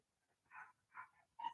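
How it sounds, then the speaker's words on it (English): Three short, faint barks from a dog outside, spaced apart and muffled by distance. "Oh, I can hear the dog outside going crazy too."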